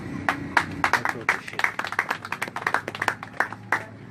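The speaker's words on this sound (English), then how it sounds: "I think that's what people deserve round of applause." A small crowd at a political gathering gives a round of applause, uneven individual hand claps close by, sharp and irregular, with a faint murmur of voices underneath.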